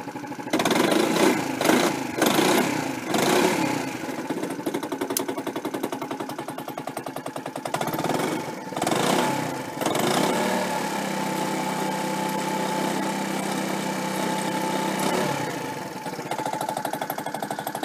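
A motorcycle engine idles steadily and close by with a low, even rumble, louder and rougher over the first few seconds and then settling into a constant idle.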